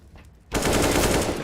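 AK rifle gunfire in Counter-Strike: Global Offensive, a sudden rapid burst of loud automatic shots erupting after a brief quiet moment and continuing to the end.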